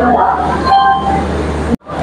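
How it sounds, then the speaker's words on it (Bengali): Guwahati–Kolkata Garib Rath Express AC train at a station, a steady low rumble and hum that runs throughout before cutting out abruptly near the end, with someone talking over it. "এই হচ্ছে আমাদের ট্রেন, গুয়াহাটি কলকাতা গরিব রথ এক্সপ্রেস।"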